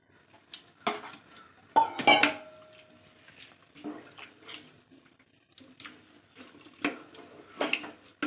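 Prawns tipped into a cooking pot for a Tamil prawn curry with radish, giving sparse clinks, splashes and clatters of metal and water in a quiet kitchen, close and intermittent.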